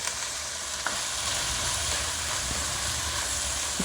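Chickpea curry spices fry in a pan with a steady, close sizzle and hiss, broken by a few faint scrapes of stirring.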